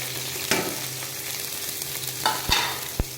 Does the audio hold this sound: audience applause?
no